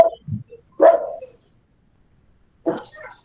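A dog barks in three short bursts somewhere in a home during an online electricity class, fairly close and clear, with quiet gaps between the barks.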